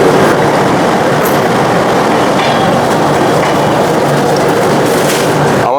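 Sealdah Rajdhani Express pulling out of Dhanbad Junction, heard as a steady loud rumble of rolling wheels and carriages, with faint clatter and no voices.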